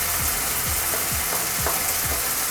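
Coriander powder, salt and cumin powder being stirred in a sizzling frying pan for dhaba-style paneer masala, a dense continuous hiss with rhythmic scraping strokes of a spoon repeating about every half second, close and loud.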